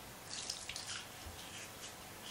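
Tap water runs and splashes as a toothbrush is rinsed under it at a sink, a quiet, fairly steady hiss with small splashy bursts and no talking.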